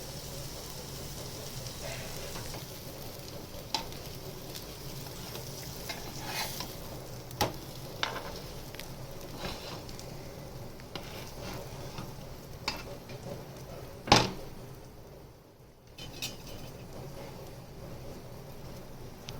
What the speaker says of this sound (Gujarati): અને 3-4 વખત પલટાવીને ક્રિસ્પી શેકવાનું છે.